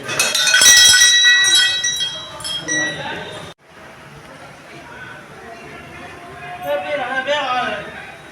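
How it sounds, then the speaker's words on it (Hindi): A metal bell inside a temple rings with bright, ringing clangs over the first few seconds, then fades into a hum of crowd chatter and voices that continue in the background. "घंटी बजाती"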